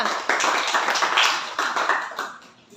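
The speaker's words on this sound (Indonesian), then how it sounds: "beri aplaus buat kelompok 2" A classroom applauds group 2 at the end of their presentation: a dense, steady patter of many hands clapping close by for nearly three seconds before fading slightly.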